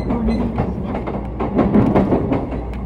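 An E233 series 0 electric commuter train running on the Ome Line between Haijima and Ome, heard from inside the car, with steady rolling rumble, motor hum and rhythmic rail joint clatter throughout.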